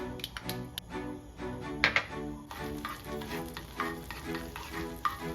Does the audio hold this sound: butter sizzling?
yes